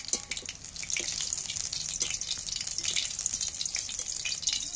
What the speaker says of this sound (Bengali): পেঁয়াজ কাটাগুলো আমি ছাঁকা তেলে একটু ভেজে নেবো